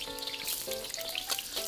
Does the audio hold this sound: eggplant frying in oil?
yes